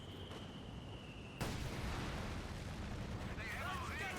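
Mortar half-track firing in a Company of Heroes 2 battle on a fields map: a sudden loud boom at about a second and a half is followed by a sustained rumbling barrage, with faint battlefield noise.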